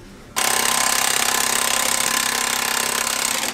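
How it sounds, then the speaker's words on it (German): A pneumatic impact wrench in a workshop hammers loose a stubborn bolt on a car shock absorber, starting abruptly and rattling continuously and loudly for about three seconds. "zum Glück habe ich hier in der Halle einen Schlagschrauber, sonst wäre die Schraube jetzt niemals ab gewesen"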